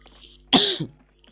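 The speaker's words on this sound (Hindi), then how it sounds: "भाई कतई खांसी क्यों आ रही है।" One abrupt, harsh cough bursts out close to the microphone, followed by a short throaty tail, amid otherwise quiet surroundings.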